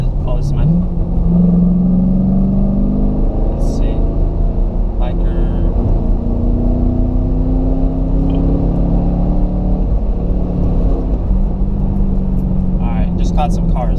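Steady loud car engine rumble with vehicles passing close by, one after another, engines revving and whirring throughout, beside a 2014 Chevrolet Camaro SS.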